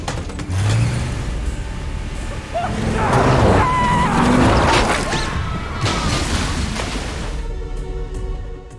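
A car plunging off a bridge in a film scene, with revving, a crash and rumbling impacts over a dense, loud mix of music and effects.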